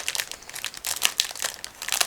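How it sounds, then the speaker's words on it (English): Plastic kit bags for a 1/35 Miniart T-34/85 model crinkle as they are cut open with scissors to free the parts, a close, quick run of crisp rustles and crackles. "I will need scissors, because otherwise it will be almost impossible to get all the parts out of the bag"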